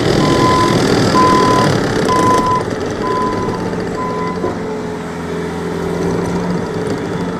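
A 2020 Bobcat T66 compact track loader runs steadily nearby, its engine drone overlaid by a regular series of five reversing beeps that stop partway through while the machine keeps working.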